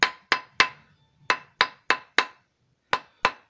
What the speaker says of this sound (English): You just use your hammer, get that shape back in it.